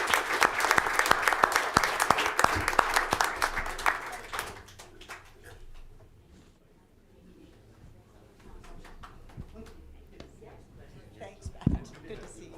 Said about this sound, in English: About a round of applause again for Chuck and Paul.